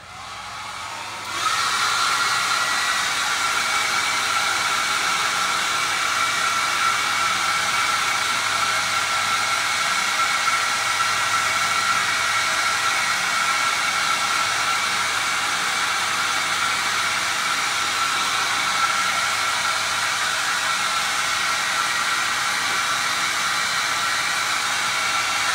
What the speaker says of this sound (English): I'm going to do the hair dryer because I want it to dry fast.